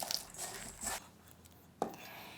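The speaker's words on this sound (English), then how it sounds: "And then chop it up." A knife chopping fermented squid, with a couple of soft, muffled cuts on a board separated by a pause, quiet and close.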